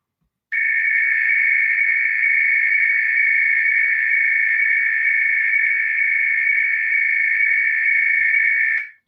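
A high-pitched shortwave RTTY radio signal, a steady loud tone that holds without a break for about eight seconds before stopping abruptly.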